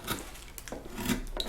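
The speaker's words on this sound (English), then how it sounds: "I'm rotating the gouge as I push it through the wood." A woodcarving gouge is pushed and rotated through wood, giving short rasping scrapes and soft cuts in a close, uneven rhythm with no talking.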